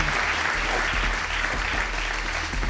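Audience clapping for Cristina Medina continues steadily at an interview event, with a low rumble and faint voices under the dense applause.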